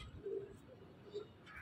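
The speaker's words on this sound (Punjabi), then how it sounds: "ਬਹੁਤ ਹੀ ਸ਼ਾਨਦਾਰ ਕਬੂਤਰੇ" Pigeons at a rooftop loft coo softly in a couple of low, brief murmurs over faint background noise, with no voices.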